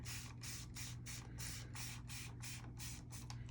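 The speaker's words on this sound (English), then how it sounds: "Let's use the misting water instead of the spraying." A misting water spray bottle used while wetting a fall landscape painting, giving a rapid series of about eight or nine close, hissing spritzes in an even rhythm over a low background hum.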